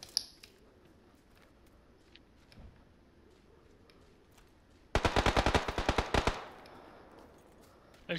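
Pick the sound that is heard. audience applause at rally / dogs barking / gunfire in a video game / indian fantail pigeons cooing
gunfire in a video game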